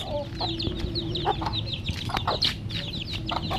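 Paroakan (Parawakan) chickens cluck and chirp busily during feeding, with many overlapping calls at close range and steady farmyard bustle beneath, and no talking.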